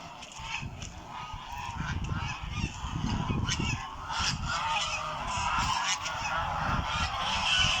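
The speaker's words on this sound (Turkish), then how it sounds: "Kazlar da bunlar." Several geese on a goose farm honk loudly and repeatedly, their calls overlapping close by in a noisy flock.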